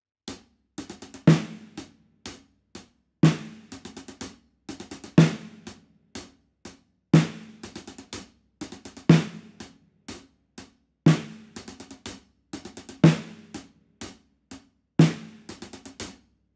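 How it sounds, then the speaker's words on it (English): Drum beat played only on hi-hat and snare, with five-stroke rolls worked into the pattern. Crisp, close, repeating bars of sharp strikes and quick roll bursts, steady and alone with no voice. "This gives us a pattern just on the hi-hat and the snare drum"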